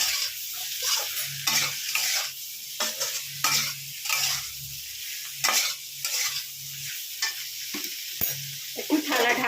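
Potato, raw banana and eggplant curry sizzles and fries steadily in a pan while being stirred, with repeated scraping strokes of a spatula across the pan bottom over the continuous hiss, close and fairly loud, with no talking.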